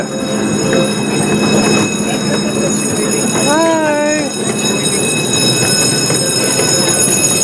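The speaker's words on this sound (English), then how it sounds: "Alright, we are starting our train ride." A miniature park train at San Antonio Zoo rolls along with a constant rumble and a brief squealing tone; a voice speaks briefly over the steady noise.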